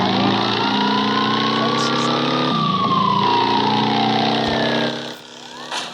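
An ambulance siren in the video game Gangstar Vegas wails up and down over a steady engine drone and street noise, loud and close, with people talking underneath.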